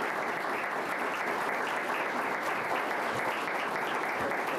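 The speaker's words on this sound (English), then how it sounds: "let's have another round of applause for our candidates" An audience at a candidates' forum on a fall evening gives a round of applause, a steady dense wash of many hands clapping together at close range that holds evenly from start to finish with no voices over it.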